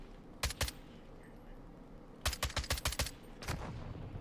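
Pistol gunfire in Call of Duty: Modern Warfare 2, a 2v3 match: a pair of sharp shots, then a rapid burst of about six closely spaced cracks, and a final louder shot, all close and punchy over faint game background.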